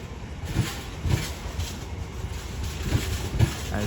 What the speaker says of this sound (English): we now find ourselves those pair of Freightliner 90s back underway